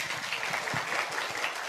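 An audience at an Indonesian business seminar claps together in a brisk, fairly faint patter that runs evenly without speech.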